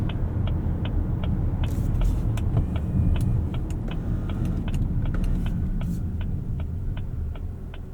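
Cabin noise inside a 2024 Lincoln Nautilus Black Label with the 2-liter turbo while driving: a steady low road and engine rumble with a loud, evenly spaced turn-signal ticking running over it throughout.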